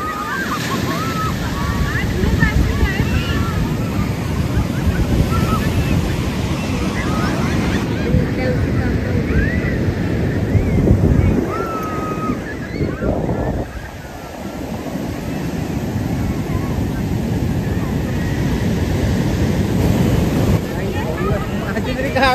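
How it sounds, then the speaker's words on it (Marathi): Rough sea waves roll and crash continuously on a Konkan beach, a steady loud surf roar with wind buffeting the microphone and faint voices mixed in. "सध्या खवळलेला आहे समुद्र"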